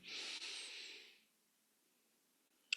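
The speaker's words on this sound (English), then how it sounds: "And one last time, breathing in" A single slow, soft inhale during a guided breathing exercise lasts about a second, then fades to near silence before a brief click.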